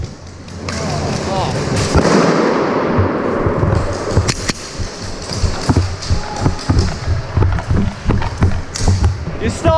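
An airsoft grenade bursts with a sharp pop after its pin is pulled, followed by scattered thumps and clatter outdoors while people talk nearby.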